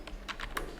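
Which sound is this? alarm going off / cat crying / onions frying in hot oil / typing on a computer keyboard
typing on a computer keyboard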